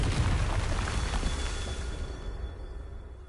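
A Confringo fire spell detonating in Hogwarts Legacy, a loud rumbling blast that swells at the start and then decays into a long, dense roar fading out over a few seconds.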